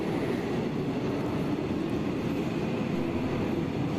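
A steady, loud rumble of a train at a station in South Korea, with continuous low-frequency roar and rail noise throughout, no voices.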